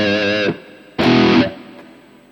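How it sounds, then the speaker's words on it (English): Two bursts of a guitar tone through a Mooer GE1000 chorus reverb effect, shimmering, each note ringing about half a second and trailing off into a faint wash. "Chorus reverb."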